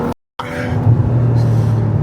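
Ferrari 812 Superfast engine revving from inside the car, a loud steady low rumble that swells after a brief dropout at the start.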